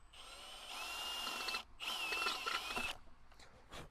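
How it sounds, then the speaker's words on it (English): A power drill whines loudly in two long bursts with a short break between, the pitch dipping as the bit bites into a bolt on a log splitter, then tapering to faint clicks. "take my drill bit, drill it out again."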